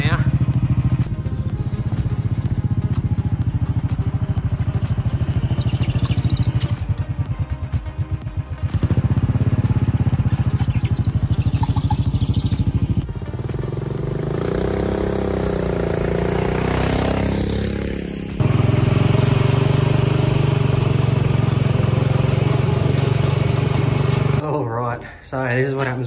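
A golf cart with a homemade, tack-welded lift kit drives along with its motor running steadily and loudly throughout. Rattles and scraping clatter run under the drone, and the tone shifts as it speeds up and slows down.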